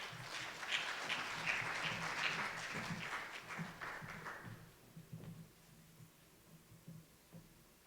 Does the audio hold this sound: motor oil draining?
no